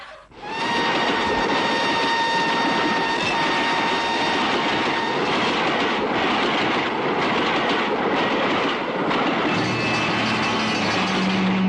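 Moving train running steadily, loud continuous rumble and rattling wheels with faint tonal squeal, close and dominant with no voices.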